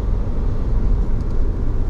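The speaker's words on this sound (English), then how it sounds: "Must have been this car that just passed me." A car drives past on a road, a steady close low rumble of engine and tyre noise that holds for about two seconds with no voices.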